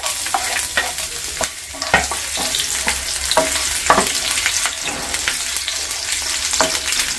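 Green chilli and ginger sizzle and fry in a pan for dry kala chana masala, with steady loud crackling and repeated scraping strokes as they are stirred.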